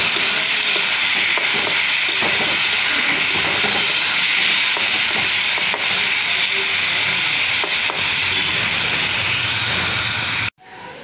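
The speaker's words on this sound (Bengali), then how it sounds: "এখন একটু ভাজা হবে, মানে বেশ একটু সময় লাগবে, এটা আঁচ কমিয়ে কমিয়ে ভাজতে হবে" Shredded potato strips deep-frying in oil over low heat for crispy jhuri aloo bhaja, a loud, steady, continuous hiss of bubbling oil with faint scrapes, cutting off abruptly near the end.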